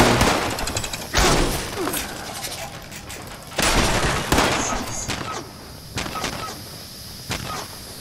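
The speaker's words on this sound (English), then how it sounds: "Stop shooting me" Gunfire in the video game Fallout 76 comes as several loud, sharp bursts of shots and blasts spaced a second or two apart, each decaying into rumbling noise.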